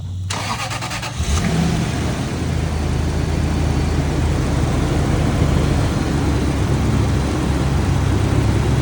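A car engine with a melted coolant reservoir cap cranks briefly, catches, and settles into a steady, loud rumbling run that continues to the end.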